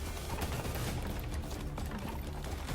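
Rapid automatic gunfire from a Call of Duty weapon during a recoil test, a dense continuous stream of shots with mechanical clatter, no talking.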